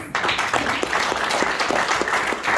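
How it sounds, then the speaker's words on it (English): A short burst of applause from an audience at a boxing press conference, steady clapping throughout with no talking. "Give him a round of applause."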